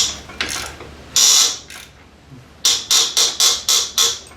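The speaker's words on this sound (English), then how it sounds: "Then I got to put some pressure on it, and I really got to start cranking her down." A ratchet cranks down on a tight, rusty broken bolt, giving a few scattered clicks and then a quick run of six sharp, evenly spaced ratcheting strokes up close.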